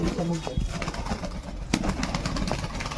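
Pigeons being fed peanuts, their soft cooing and fluttering mixed into a busy outdoor scene with steady background noise and people talking nearby.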